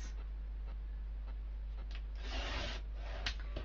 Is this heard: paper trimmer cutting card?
yes